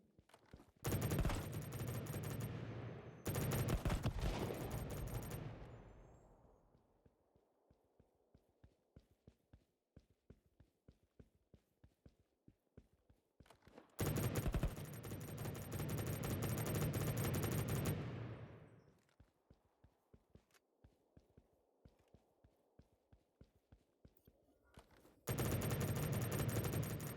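Automatic weapon fire in the Battle Prime shooter game, long sustained bursts of rapid gunfire separated by gaps of sparse clicks and single shots, loud and close.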